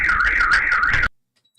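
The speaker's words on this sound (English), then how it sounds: "we hear the car alarm going off" A car alarm wails loud and close in a steady rising-and-falling siren for about a second, then cuts off abruptly into silence, heard in a report of a drone attack on Russian Tu-95 strategic bombers.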